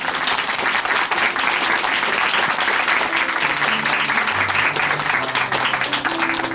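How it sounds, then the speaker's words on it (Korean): A church congregation in Chuncheon gives loud, sustained applause of thanks after a testimony, a dense wash of clapping throughout with a few faint voices beneath. "감사의 박수 부탁드립니다"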